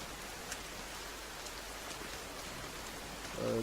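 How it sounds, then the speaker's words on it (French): Rain falls in the survival video game The Forest as a faint, steady hiss of drops. A short tonal sound rises right at the end. "C'est ça la pluie."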